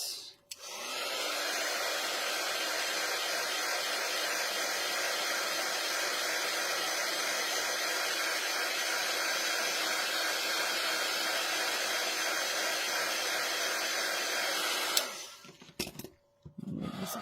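A hair dryer blows steadily and loudly for about fifteen seconds, drying craft paint on a wooden box frame during a chalk transfer craft project, then cuts off abruptly, leaving faint handling noises.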